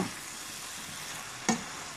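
Chicken basil pesto with zucchini noodles is stirred in a pan, giving a soft continuous sizzle and scraping hiss, with one brief sharp knock partway through.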